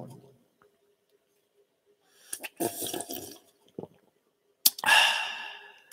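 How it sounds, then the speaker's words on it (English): A person sips drinking water close to the microphone, with a few short, wet slurps separated by quiet gaps. "I want y'all to hear the difference between drinking that and drinking some water."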